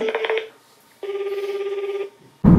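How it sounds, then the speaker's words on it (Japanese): A telephone ringback tone heard during an outgoing call plays two separate electronic ringing bursts with a short gap between them. Each burst is loud and clear, and a sudden louder noise follows at the very end. "電話してみましょう。"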